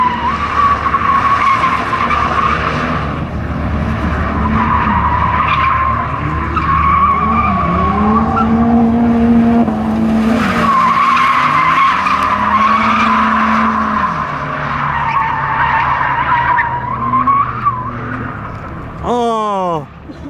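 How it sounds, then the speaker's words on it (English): A drift car at a Colorado drift competition slides with loud, sustained tire squeal and a rising, falling engine roar, close and continuous, while a voice talks over it and a sharp burst of skidding comes near the end. "Oh yeah, that thing drifts no problem."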